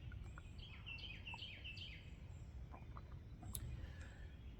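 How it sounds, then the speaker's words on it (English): Northern cardinals sing in a quiet outdoor setting, a run of repeated sliding whistled notes early on followed by scattered chirps and calls, fairly faint and distant. "those cardinals are very talky"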